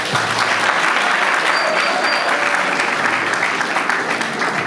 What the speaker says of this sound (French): Merci, applaudissons.